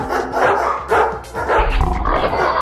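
A dog barks in a series of loud, close, rapid woofs with short gaps between them, heard with no talk over it.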